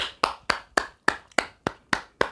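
Eight or nine sharp, evenly spaced hand claps from a single person, close and crisp, each ringing briefly before the next in a steady slow rhythm with no talking.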